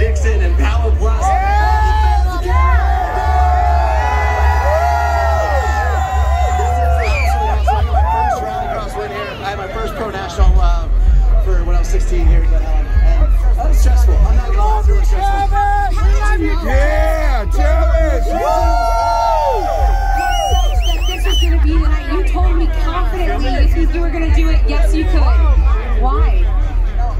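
A crowd at Glen Helen Raceway whoops and yells continuously behind a close-up interview, with the cheering constant throughout.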